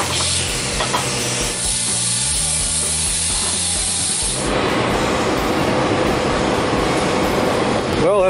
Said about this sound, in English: I'm just gonna give them a quick wire wheel over to dull them up